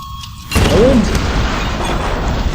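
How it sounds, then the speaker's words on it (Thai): In the video game Tomb Raider, a gas tank explodes with a sudden deep boom after a quiet low hum, then trails off into a long rumbling decay. "ระเบิดแน่นอน"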